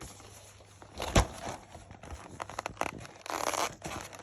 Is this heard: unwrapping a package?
yes